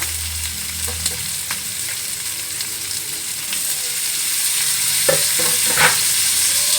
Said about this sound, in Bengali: ফ্রাই হয়ে যাবে যেহেতু আলু আমি সেদ্ধ করে নিয়েছি